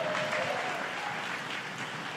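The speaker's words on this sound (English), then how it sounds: "I think that's a round of applause." Steady applause from a crowd at a live esports finals event, fairly even and continuous, with no talking over it.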